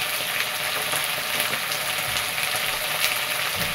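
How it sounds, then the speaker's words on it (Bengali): Spice paste with salt, turmeric powder and cumin powder frying in hot oil, giving a loud, continuous, close sizzle with a hiss that never lets up. "দিয়ে মশলাটাকে ভালো করে কষাবো যতক্ষণ তেল ছাড়ে"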